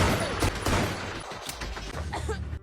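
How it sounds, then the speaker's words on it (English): Bursts of gunfire in a film crackle in quick, irregular volleys over a dense, noisy background, fairly loud and sustained. "More gunfire is heard."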